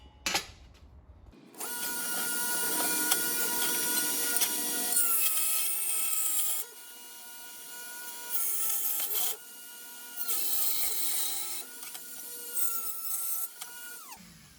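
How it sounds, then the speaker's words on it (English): A toy Tonka truck's metal frame is cut with a high-pitched power cutting tool in several sustained whining passes, close and loud, separated by brief pauses where the motor spins down. "now I'm going to do my 2 vertical cuts"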